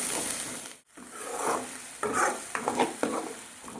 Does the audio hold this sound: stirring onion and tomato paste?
yes